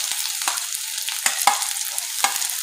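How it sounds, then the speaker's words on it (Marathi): Chopped onion, capsicum and carrot sizzle in hot oil in a kadhai, a soft steady frying hiss broken by a few sharp clicks and scrapes of stirring. "आता आपण यामध्ये ज्या आपण भाज्या कट करून घेतलेल्या आहे ते टाकूया"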